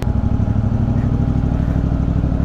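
A motorcycle engine idles steadily at night near a gate along Marcos Highway, its low, even rumble loud and close throughout, with no voices.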